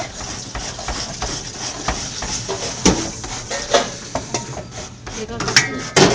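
A knife slices through vegetables with their seeds removed during a cooking class, giving a run of sharp, fairly close taps on a board mixed with light kitchen clatter.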